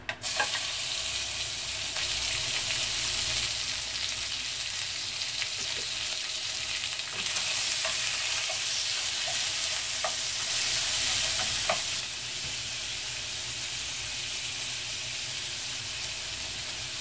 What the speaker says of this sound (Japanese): ごま油を鍋にしっかりなじませて温めます豚バラ肉を入れます